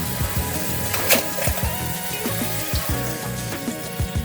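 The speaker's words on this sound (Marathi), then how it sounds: "यामध्ये मी थोडंसं पाणी घालते." Water pours into a pan of Konkani-style crab curry in a home kitchen, producing a light splashing trickle with small irregular clinks and bubbles, close by and moderately loud.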